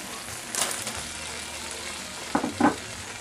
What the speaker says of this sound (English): now so I'm going to put in my onions